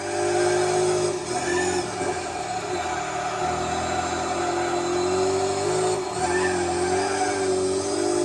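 Race car engines in Gran Turismo 4, including a Skyline, whine and rev continuously at a steady pitch with brief shifts during an endurance race, loud and close, with no talking.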